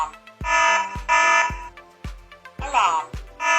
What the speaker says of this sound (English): and then what I can do is then disable the alarm